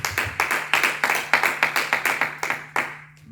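Church congregation clapping in a French-language worship service, a run of about a dozen sharp, fairly regular hand claps in quick succession, then ending.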